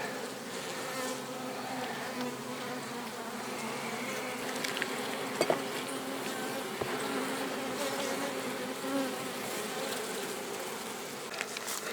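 Honeybees buzzing densely around an open hive full of brood and capped honey, a continuous close swarm drone with occasional individual bees passing near, no talk.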